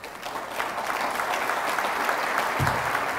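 Steady applause from a conference panel audience greeting Xu Jun, a dense wash of clapping that holds evenly at full strength throughout, with no voices over it.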